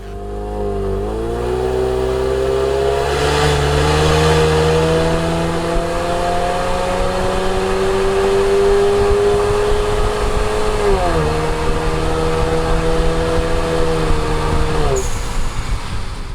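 A 2015-or-later Ford Mustang EcoBoost with an axle-back exhaust drones steadily at close range, the engine tone climbing slowly as it accelerates, then dropping off and building again.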